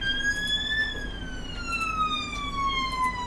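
A wailing emergency siren rises and falls slowly, steady and moderately loud over a low engine hum, with a synthetic, game-like tone, in the game Emergency 4.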